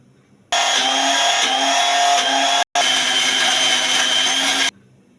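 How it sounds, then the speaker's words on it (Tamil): A mixer grinder grinding cashews with milk into a fine paste whirs loudly and steadily for about four seconds, cutting out for a moment before starting again. "முந்திரி பருப்பை மிக்ஸி ஜாரில் சேர்த்துட்டு அரை கப்பு பாலை ஊற்றி நல்லா ஃபைன் பேஸ்ட்டாக அரைச்சிட்டு வந்துடலாம்"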